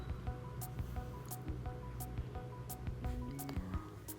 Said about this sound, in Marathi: या पाण्याला उकळी आल्यानंतर त्यामध्ये भिजवलेला तांदूळ घालायचा आहे